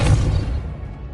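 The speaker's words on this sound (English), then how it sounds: "Depulso." A Depulso force spell cast in Hogwarts Legacy on PS5 lands as a single deep, loud thump with a short whooshing rumble that fades within a second.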